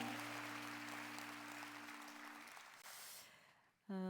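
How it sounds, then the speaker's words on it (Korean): A church congregation claps together in sustained applause at a worship gathering, steady and full before thinning out near the end, with a brief sung or organ tone lingering early on. "우리 주님께 영광의 박수 올려드립시다"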